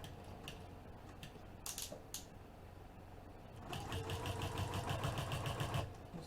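A sewing machine bastes the edges of a business bag panel, its soft quiet stitching giving way to a louder, steady rapid run of needle strokes over the last two seconds, with faint ticking earlier.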